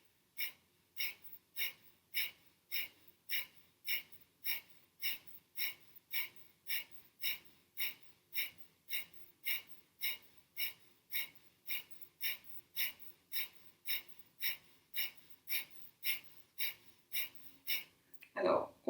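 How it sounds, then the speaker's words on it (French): Rapid, rhythmic breath-of-fire yoga breathing through the left nostril, with steady forceful puffs repeating about once per half second for the whole stretch, close and moderately loud. "respiration du feu ou long et profond par la narine gauche"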